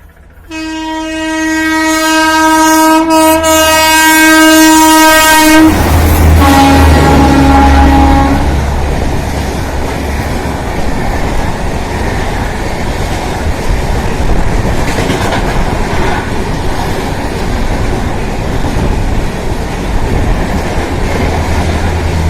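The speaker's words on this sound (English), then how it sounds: "you can see train is coming" A train on a railway gives a long, loud horn blast, then roars past close by with steady wheel rumble and clatter that fills the rest of the stretch, with no voices.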